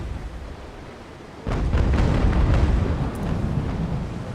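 Ship cannons in the Naval Action naval game fire a double-shot broadside, a sudden heavy boom followed by a rolling, rumbling volley of blasts that lingers for a few seconds.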